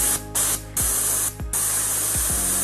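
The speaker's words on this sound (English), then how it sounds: "turn the air on, and because I've already got tissue on here, I'll just blow it out to get rid of any excess" A Badger 200 NH airbrush blows air in several short bursts of loud hissing spray, separated by brief pauses, with a soft thud at the end of each burst.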